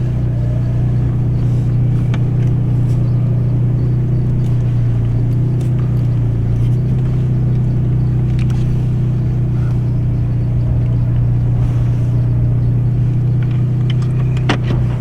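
A 10th-generation Honda Accord idling while backing out, giving a steady low engine hum and rumble at constant level, close and continuous with no talk.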